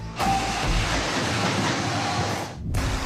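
A commuter train rumbles steadily in a busy Brazilian city, a dense, continuous roar of wheels and carriage noise lasting a few seconds before briefly dropping away and then resuming.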